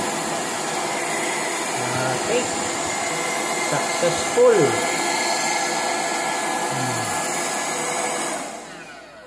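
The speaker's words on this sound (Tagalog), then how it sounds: "i-on natin ang vacuum." A steady, loud whirring hum of a vacuum cleaner running continuously on a homemade full-wave power supply, with a person briefly speaking over it before the motor winds down at the end.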